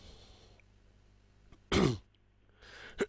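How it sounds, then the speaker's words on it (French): A single short cough or throat clear stands out from quiet room noise, followed by a softer second one near the end. "je suis désolé si je tousse un peu"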